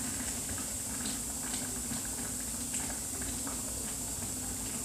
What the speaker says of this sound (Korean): 보글보글 끓는 김치찌개를 한번 여러분 한번 보여드리겠습니다.